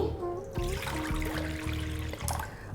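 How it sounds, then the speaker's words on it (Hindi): Water pours into a kadhai, a steady close trickle and splash against the metal pan lasting a few seconds, with some clatter. "कढ़ाई में लेते हैं थोड़ा सा"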